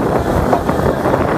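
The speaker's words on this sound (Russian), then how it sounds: "здесь такой ветер обдувает" Wind blows steadily across the microphone as a broad, rumbling, buffeting roar with no voices. It was recorded outdoors near Mostar in Bosnia and Herzegovina.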